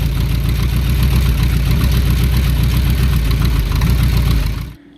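A Ford 351W V8 paired with a C4 automatic transmission runs at idle on a ground test stand in forward gear, a loud steady rumbling drone that cuts off abruptly near the end.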